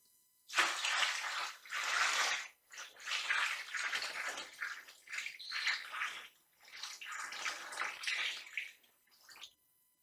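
Water pours gently into a tray of an LF ONE unit, a steady broadband wash that rises and falls in several separate pours with brief pauses between them.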